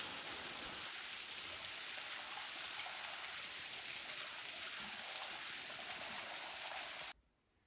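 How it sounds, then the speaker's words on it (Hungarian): A nearby mountain stream burbles over rocks in a rocky gorge of the Northern Carpathians, a steady close hiss of flowing water that cuts off abruptly at the end. "Közeli csobogás."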